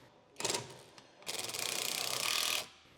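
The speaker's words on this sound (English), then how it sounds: "Use a 10 millimeter socket with an electric impact to tighten the cover screws." An electric impact wrench with a 10 mm socket tightens cover screws during control arm work on a 2013-2017 Ford Fusion, giving a short rattling burst followed by a longer hammering run, close and clear.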